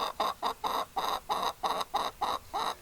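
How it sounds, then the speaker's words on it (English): A hen clucks in a steady run of about ten short, evenly spaced bursts, close and fairly loud, with no talking over it. "This chicken was making a bunch of noise."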